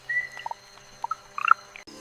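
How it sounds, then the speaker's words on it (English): Frogs calling at night in the Amazon rainforest, a faint scattering of short chirps and croaks from several animals at different pitches, with a brief high trill, over quiet insect hum. "Frogs announce their presence through distinctive calls, each species adding its own rhythm."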